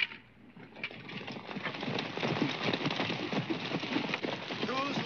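Many hooves pound in a dense, rolling clatter as a group of horses gallops, with voices mixed into the rumble.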